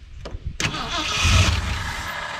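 A 1968 Ford F100 Ranger truck engine cranks and catches, then runs with a steady, close, fairly loud rumble after a couple of sharp starting bursts.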